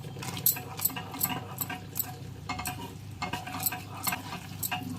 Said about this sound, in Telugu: ఇప్పుడు మనం ఇందులోని శనగపిండి కొద్దిగా వేసుకుంటూ కలుపుతూ ఉండాలండి.